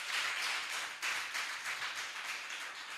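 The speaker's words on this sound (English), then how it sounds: "Please, a round of applause for them" An audience at an export summit gives a round of applause, steady massed clapping heard from a distance, fairly soft and continuous.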